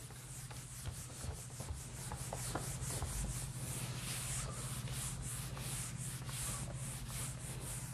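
A rag rubs and wipes across a board to erase it in a cold garage, a steady close scraping swish that runs continuously with repeated strokes.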